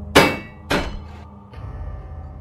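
In the video game Amnesia: The Outbreak, a bucket strikes a rusted button twice, two sharp metallic clangs about half a second apart, loud and near, followed by a low resonant hum.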